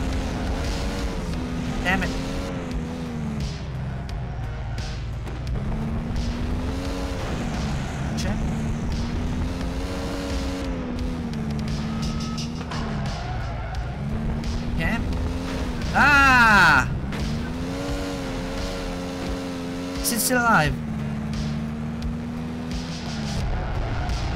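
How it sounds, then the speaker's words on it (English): Cart in a horror video game rolling along with a droning, wavering engine-like rumble that rises and falls steadily, loud and continuous, with brief louder bursts and people talking over it. "Okay, the cart is moving."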